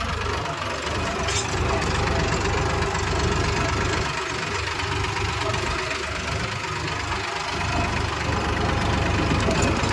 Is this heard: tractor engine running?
yes